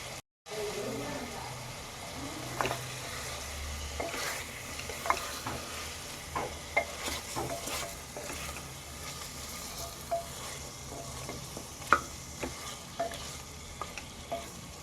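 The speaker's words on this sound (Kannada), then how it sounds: "ಹಸಿ ಶುಂಠಿ ಬೆಳ್ಳುಳ್ಳಿ ವಾಸನೆ ಹೋಗೋವರೆಗೂ ಫ್ರೈ ಮಾಡ್ಕೊಳ್ಳಿ" Ginger garlic paste fries in a pan for a restaurant-style chicken gravy, a low steady sizzle with repeated sharp scraping stirs of a spoon against the pan, near and fairly quiet.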